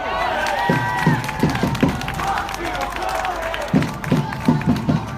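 Crowd applause and cheering for a speaker at a political rally against sanctuary cities in Richmond, Virginia, coming in two loud bursts of clapping and shouts with a lull between, heavy with crowd noise.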